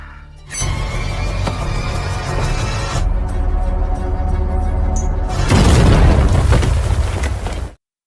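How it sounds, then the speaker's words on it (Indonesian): A bomb detonates in a film scene after being carried out of a shop, producing a loud sustained roar of explosion and rumbling debris that swells even stronger partway through before cutting off abruptly. "bom tadi berhasil dibawa keluar toko dan dapat diledakkan dengan aman"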